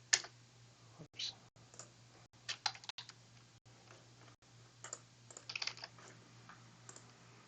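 A password is typed on a computer keyboard in short bursts of quick, light key clicks separated by brief pauses, faint and close, with no speech.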